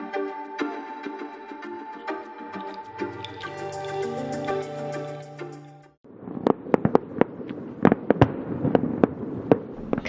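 Fireworks at a resort on a nearby island, heard from a boat moored in the Spanish Wells harbor, pop and crackle in a rapid string of sharp bursts that follow an earlier stretch of tonal sound.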